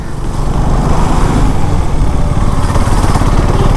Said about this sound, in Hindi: बाइक राइडिंग है